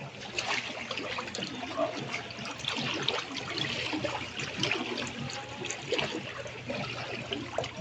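Footsteps wading through flood water during Typhoon Carina, with steady sloshing and splashing close by, broadband and continuous, with faint chatter in the background.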